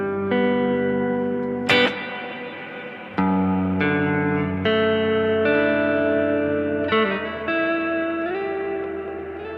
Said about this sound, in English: you'll hear we've got the double tank reverb from the HXeffects sitting post amp